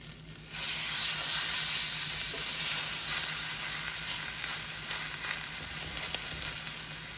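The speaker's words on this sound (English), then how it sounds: "So now we sear. Lay it on one side." A ribeye steak laid into a smoking-hot pan for a reverse sear bursts into a loud, steady sizzle after a brief quiet moment and hisses continuously, close up with no talking.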